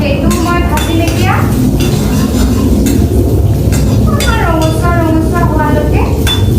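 Chopped ginger and garlic fry in a pan with a steady sizzle, punctuated by clinks and scrapes of a utensil stirring against the metal, with a voice talking over it.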